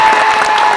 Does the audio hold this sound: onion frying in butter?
no